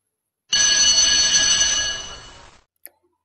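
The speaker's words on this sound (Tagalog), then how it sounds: "That bell, that's my alarm clock" A loud mechanical alarm bell rings continuously for about two seconds, fading slightly before stopping, followed by a single faint click.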